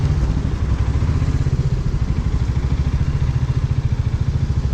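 A motorcycle engine idles steadily close by with a fast, even low thrum, as the bike is being parked beside another shop's parking area on a roadside.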